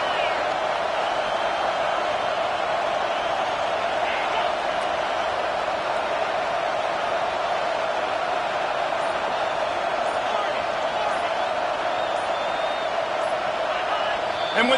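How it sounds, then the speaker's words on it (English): A roaring stadium crowd at a Baylor versus Florida college football game, a steady, loud wall of cheering and noise that sustains without a break, with no clear talk over it. "the crowd forces a false start"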